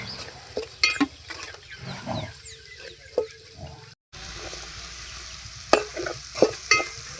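Fish curry masala with coriander and mint fries over a wood fire, giving a continuous sizzle. Close, scraping stirs of a spoon against the pan run through it, with a brief silent break partway.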